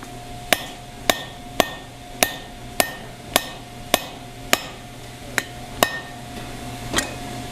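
Hammer blows ring out on a blacksmith's punch driven into a hook on the anvil, about a dozen sharp, evenly spaced metallic strikes at close range, each with a brief ringing decay over a steady low hum.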